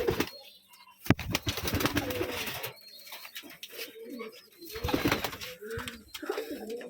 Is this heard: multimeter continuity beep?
no